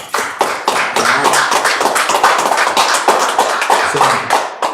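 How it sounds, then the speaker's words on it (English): An audience at a Sabbath service of the Israelite School of Universal Practical Knowledge in Durham claps loudly and steadily, dense overlapping hand claps filling the room with no talk. "Clap it up"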